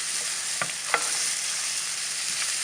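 Chicken pieces with ginger fry in a pan for Kodi Vepudu, making a loud, continuous hiss of sizzling oil close by, with a few soft knocks as the pieces are stirred.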